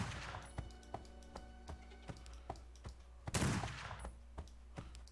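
Rapid shots from a laser gun in the game Lovecraft's Untold Stories 2 crackle in a quick, even string, with one louder blast partway through, close and fairly quiet.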